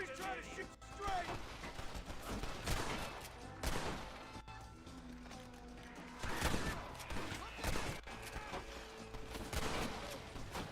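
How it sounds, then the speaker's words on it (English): Gunshots ring out in the Western video game Red Dead Redemption, several sharp reports and crashes scattered through a busy mix of game sound, with someone talking over the action. "At least try to shoot straight!"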